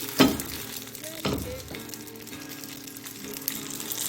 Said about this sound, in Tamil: நல்லா பிரிஞ்சால சூப்பராக நல்லா இந்த பதத்துக்கு நல்லா பொரிச்சிக்கிங்க